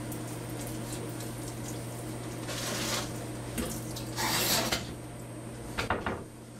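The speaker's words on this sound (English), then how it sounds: "I'm going to go ahead and hit it one more time with water right now" Water pours from a kitchen tap onto a microgreens flat of broccoli, soft splashing and running water with a couple of louder gushes and light clatter, fairly quiet overall.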